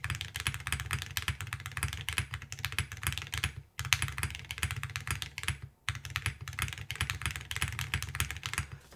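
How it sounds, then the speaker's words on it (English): Someone types on a mechanical keyboard fitted with metal keycaps, a continuous close clatter of rapid keystrokes broken by two brief pauses. "They sound like metal keycaps"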